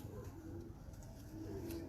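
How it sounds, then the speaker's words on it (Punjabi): A Salara pigeon on a rooftop coos in a soft, steady, drawn-out rolling call, faint and close, with no talk. "ਸਲਾਰਾ ਕਬੂਤਰ ਹੈ। ਸਲਾਰਾ ਕਬੂਤਰ।"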